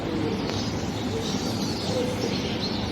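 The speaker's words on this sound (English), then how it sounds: "you can hear the birds in the next clip kind of preparing for the storm" Birds call before a storm in Durban, South Africa: soft cooing and chirps sound at a moderate distance over a steady outdoor background.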